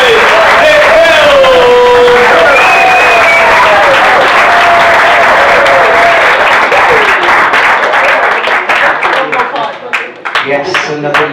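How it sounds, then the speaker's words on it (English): A comedy club audience at a brewery breaks into loud, sustained applause with whoops and cheers, and voices call out over the clapping before it fades near the end. "We can start the applause off."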